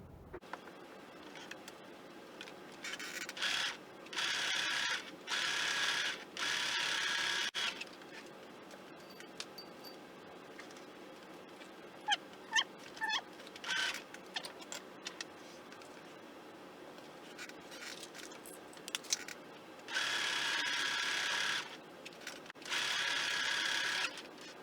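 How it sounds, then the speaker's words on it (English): A sewing machine stitches fabric pieces for a patchwork cross stitch clutch in several separate bursts of quiet mechanical whirring, with short clicks and pauses between runs. "Then we'll take this to the sewing machine."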